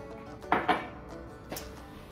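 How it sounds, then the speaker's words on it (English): Metal cooking pot clanks a couple of times as it is shifted toward a bigger pan in a home kitchen during a jelly-based barbecue sauce canning session, two quick knocks close together, then a softer clink. "I'm gonna have to move it to my bigger pan"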